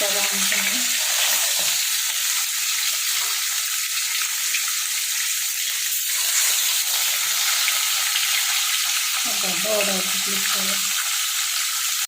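Fish fries in hot oil with a loud, steady hiss and crackle throughout, close by, and faint clatter from utensils now and then.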